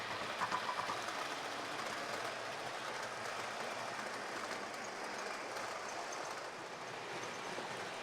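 A small HO scale model locomotive runs continuously at a steady pace, a faint, even whirring rumble with light clicking, no voices.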